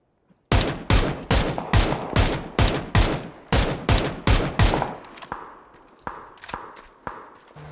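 Rapid gunfire from a squad of computer-controlled bots in a shooter game, about a dozen sharp, loud bursts in quick rhythm, then fading into softer, more distant shots.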